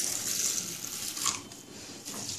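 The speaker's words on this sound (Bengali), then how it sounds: "ভালো করে ধুয়ে নেব।" Soaked fenugreek seeds being rinsed in water, a soft continuous splashing and swishing close by with a faint tap-like hiss, no voices.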